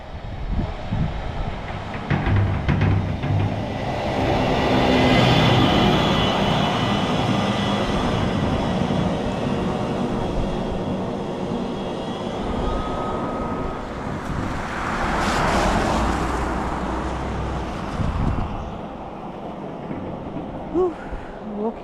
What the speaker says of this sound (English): Those are trucks that clear out the snow.